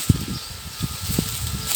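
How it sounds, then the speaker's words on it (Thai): Strong wind blows steadily through a sugarcane field in Buriram province, Thailand, a continuous soft rushing rustle with a few low gusty thumps, no voices. "ลมแรงมากๆเลยนะ เป็นบรรยากาศรอบๆนะ"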